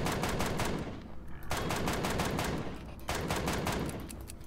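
Rapid bursts of automatic gunfire in the video game Empyrion: Galactic Survival, three long volleys separated by brief pauses, loud and close with dense crackling shots.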